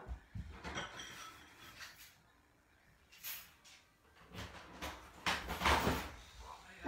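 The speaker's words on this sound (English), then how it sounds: "I've just grabbed this door" A door is handled indoors during a live home session for a children's activity group, giving soft knocks and shuffling thuds at close range, with faint voices in between.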